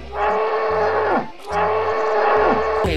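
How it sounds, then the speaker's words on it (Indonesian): A water buffalo in Jurassic World Evolution 2 lets out two long, loud lowing moos in succession, each rising and falling, with a short pause between and no voices over them. "Ada satu ekor kerbau nih teman-teman."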